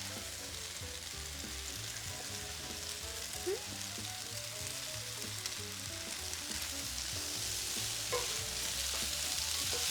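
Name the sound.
rice noodles frying and tossed in pan for pad thai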